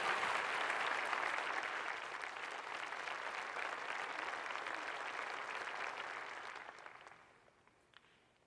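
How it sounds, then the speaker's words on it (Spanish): Church congregation applauding during a sermon, a dense, steady wash of many hands clapping that holds strong for about seven seconds and then fades out quickly, with no talk over it. "Dale un fuerte aplauso."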